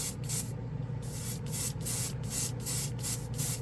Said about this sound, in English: This airbrush is really efficient. It's on 15, let me see, 16, 18 PSI. This is really pushing this out.